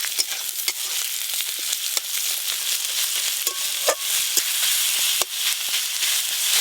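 Black cumin, crushed garlic, green chili and chopped onion fry in hot oil, a steady bright sizzle with occasional sharp pops and stirring clicks throughout, no voices.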